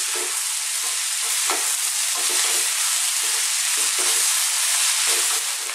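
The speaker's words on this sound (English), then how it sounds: "I just want you to hear that sound. That's the rice cooking there." Loud, continuous sizzling of vegetable fried rice frying in a hot pan, with faint stirring scrapes underneath.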